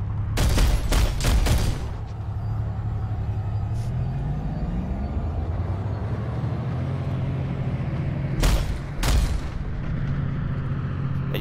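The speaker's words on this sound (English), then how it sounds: "Bullets flying around. Tracer fire." Gunfire and tracer fire in the shooter game Planetside 2 come as two clusters of rapid loud bursts, separated by a steady vehicle engine drone whose pitch rises and falls.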